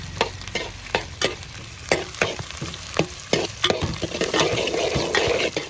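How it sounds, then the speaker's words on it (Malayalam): Garlic, ginger and green chili fry in a pan under a steady close sizzle, broken by a string of sharp scraping strokes as a spoon stirs them, about a dozen in quick irregular rhythm. "വെളുത്തുള്ളി കൂടെ ഇട്ട് കൊടുത്തേക്കാം അതിൻ്റെ കൂടെ ഇഞ്ചിയും പച്ചമുളകും കൂടി ഇട്ട് കൊടുത്തേക്കാം നല്ലപോലെ തന്നെ ഇളക്കി കൊടുക്കുക"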